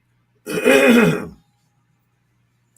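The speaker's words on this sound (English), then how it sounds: "Excuse me for clearing my throat." A single drawn-out throat clearing, close and fairly loud, lasting about a second, followed by quiet with a faint low hum.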